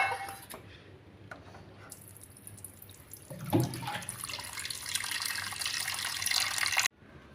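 Tap water runs into a pot for tea, starting as light trickles and splashes, then swelling into a steady, close rush of filling water before cutting off abruptly.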